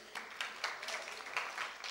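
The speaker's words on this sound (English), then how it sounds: "Right, give a round of applause." Audience applause at a student union candidates' quiz event, a steady wash of many hands clapping at moderate loudness throughout with small swells, no speech over it.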